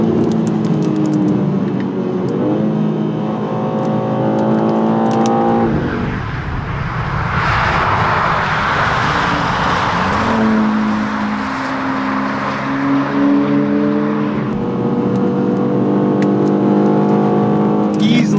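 A 2026 BMW M2 CS engine revs hard and climbs through the gears past 100, loud and close, with a brief lull mid-way before accelerating again.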